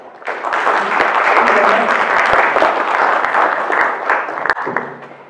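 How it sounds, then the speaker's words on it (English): An audience at a language festival talk applauds to welcome the speaker, a loud, sustained wash of clapping that fades out near the end. "Let's give her a big welcome applause."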